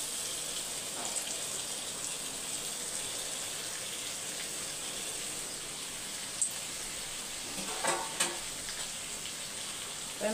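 Peeled potatoes frying in a pan on a home stove, a steady broad sizzle throughout with a few light clinks of stirring near the end, close and alone without talk.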